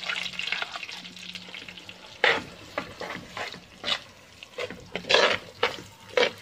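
Coconut paste fries in coconut oil for a Kerala-style squid curry, with a low bubbling sizzle broken by repeated bursts of spoon-scraping and stirring against the pan, close and fairly loud.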